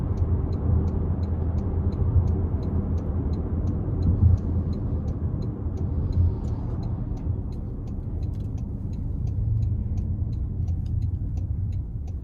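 A 2026 Toyota Corolla Cross L heard from inside the cabin as it pulls onto the interstate, a steady low engine and road rumble holding level, with a faint ticking turn signal on top.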